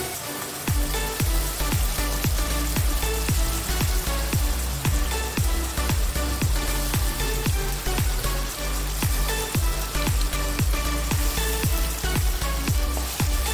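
Onion paste for a village-style barramundi fish curry sizzles steadily in a hot pan, a loud continuous fry with a regular scraping stir repeating about every half second, and no talk.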